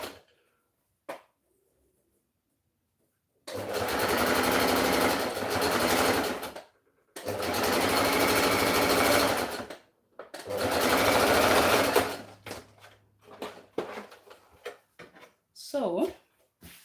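A sewing machine stitches a half-inch seam on a shirt in three loud, sustained runs separated by short pauses, followed by quieter handling noises and a brief voice.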